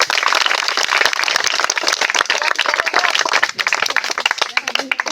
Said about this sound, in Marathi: कृपया टाळ्यांचा कडकडाट होऊ द्या